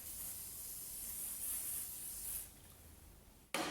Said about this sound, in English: I think we ought to get a bit of lube on the shaft.